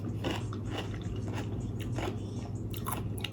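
Pickles are bitten and chewed up close, a run of loud wet crunches repeating every half second or so over a low background hum.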